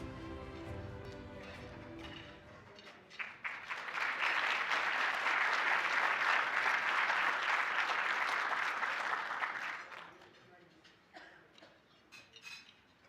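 At a Dr. Martin Luther King Jr. breakfast event, a crowd breaks into full applause right after a voice ends, swelling into dense, loud clapping for about seven seconds before tapering off to scattered claps.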